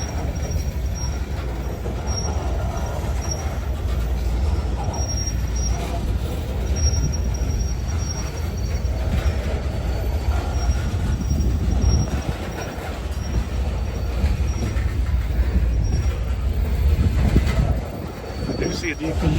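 A locomotive leading a coal train creeps slowly past making odd noises: continuous low rumbling with squealing wheels and faint clicking, steady and close, with a voice speaking briefly over it.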